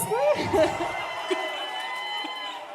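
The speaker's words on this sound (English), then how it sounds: "The crowd erupts." A live audience at a comedy show at MoMA PS1 erupts in loud cheering and whooping, a dense wash of crowd noise that slowly tapers, with a voice briefly rising above it.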